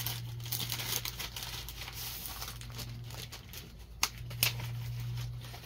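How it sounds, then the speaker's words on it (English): Paper being torn and crinkled open on a letter from an unboxed package, with a steady low hum underneath and a couple of sharp rips near the end. "We've got a letter. Let's pop this open."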